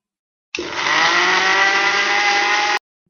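A mixer grinder grinding soaked lentils into paste whirs loudly for just over two seconds, starting and stopping abruptly, its motor giving a steady high-pitched whine.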